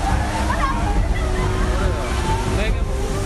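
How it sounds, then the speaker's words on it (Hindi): Surging floodwater waves slosh and churn through the streets of Jaipur, a loud, constant watery rush with a voice talking over it. "ये उफनती लहरों का रौद्र रूप है।"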